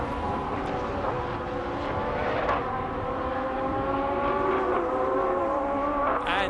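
A single-seater race car laps the Qatar circuit in GP Masters qualifying, its engine holding a loud, steady high-revving whine with harmonic tones that slide up and down through gear changes, close by and continuous with no voices.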